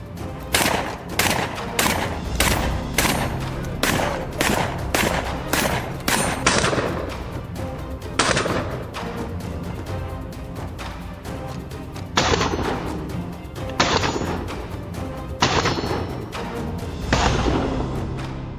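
Rapid .223 rifle shots ring out in a dense string of sharp cracks for about seven seconds, followed by a pause and then several more widely spaced single reports, each loud and close with a short echoing tail.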